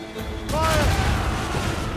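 Heavy booming cannon fire from ship guns in the naval game Assassin's Creed Rogue, a loud broadband blast swelling and sustaining, with voices and shouted commands over the battle din.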